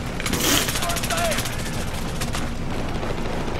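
Rapid automatic gunfire from the video game Battlefield 4 on the Operation Locker map, a dense rattling burst up close that carries on steadily throughout.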